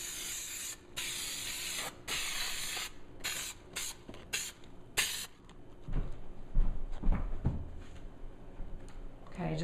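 Adhesive or coating is sprayed onto a car trunk bottom in several short, loud hissing bursts, followed by quieter handling knocks and rustling nearby.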